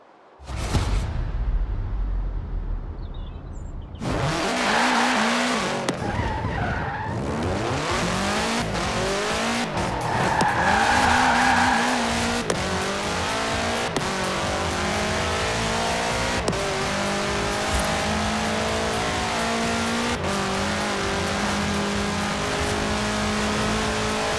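A car with a 2.5-liter F4 turbo engine in the racing game Forza Horizon 4 skids and revs, a loud continuous engine roar with tire squeal running throughout.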